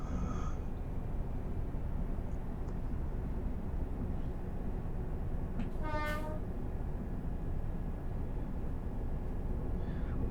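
A loud, sustained train horn blast from a locomotive in Train Sim World 6 on a UK route, sounding once midway over a steady, heavy rumble of the moving train.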